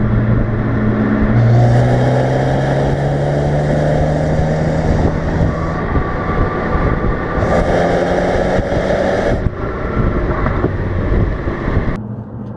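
Ford Focus ST hot hatch engine pulls hard through a corner, a loud continuous drone from inside the cabin that rises and falls in pitch, with wind noise and no talking.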